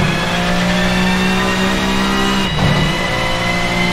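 A VRC touring car engine in Assetto Corsa holds a loud, close, steady buzzing drone with strong harmonics, dipping briefly before climbing again, no voices over it.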